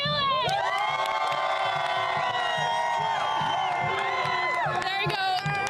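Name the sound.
crowd of Iraq football supporters cheering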